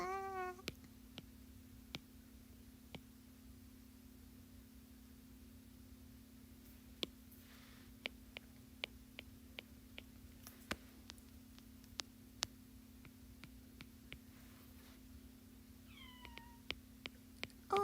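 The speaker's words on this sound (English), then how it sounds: "Oh, my kitty. My kitty is crying." A pet cat meows and cries in short rising calls near the start and again near the end, fairly faint over a steady electrical hum, with scattered ticking clicks between the calls and no talk.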